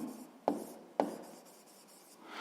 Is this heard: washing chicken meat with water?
no